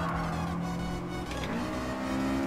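Honda S2000 in GT Sport revving hard, a loud, steady high-pitched engine note climbing and holding near the top of its rev range, with a brief dip and rise midway, continuous throughout with no talk.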